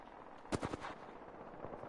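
Gunfire in a video game: a short burst of several rapid shots, fairly distant and moderately loud, followed by quieter ambient game noise.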